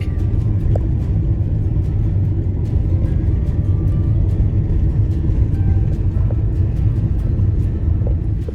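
A car travels along the partly unpaved Fossil Butte scenic drive, producing a loud, constant low rumble of engine and tires with scattered light ticks from the road surface, with no voices.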